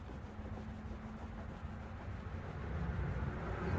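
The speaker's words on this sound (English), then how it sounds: "Just hit it with that Goo Gone. That just rubs right off." A rag rubs steadily against a car's rear window, wiping off a decal with Goo Gone, a continuous close, low scrubbing friction that grows slightly louder toward the end.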